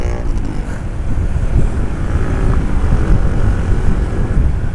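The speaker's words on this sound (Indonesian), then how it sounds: "Knalpotnya bacotan banget." Loud exhaust of a Kawasaki W175 motorcycle, a heavy, steady low rumble droning continuously close by without pause.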